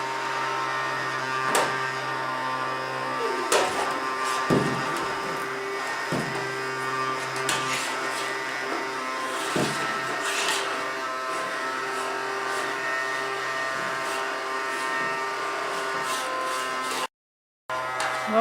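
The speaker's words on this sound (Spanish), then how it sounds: "quiere seguir aspirando" A household vacuum cleaner runs steadily throughout at close range, a constant droning whine with a few bumps and clicks as it is pushed over a rug and toys, then cuts out briefly near the end.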